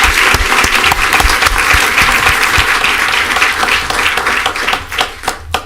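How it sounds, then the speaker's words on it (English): A room of attendees at a city commission meeting breaks into loud, sustained applause, dense clapping that holds steady before thinning out into a few last claps near the end. "So everyone, she just deserves a great round of applause,"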